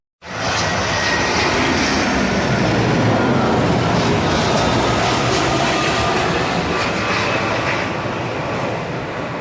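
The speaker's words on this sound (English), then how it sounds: "The airplane just lands right over your head." A loud, sustained roar of a jet airliner landing close overhead at Maho Beach, St Maarten, steady and broadband throughout with no voices.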